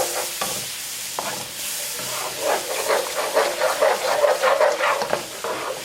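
Milk added little by little cooks into a roux for white sauce pasta, a close, steady steamy sizzle that builds into busier bubbling and stirring.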